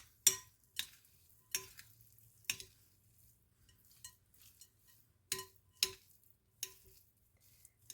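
A spoon stirs cheese into a sausage and broccoli casserole, giving a run of sharp scraping clinks against the dish at an uneven pace, close and fairly quiet, with quiet spells in between.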